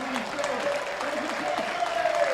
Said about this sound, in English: Ed McCarthy receives warm applause from the home crowd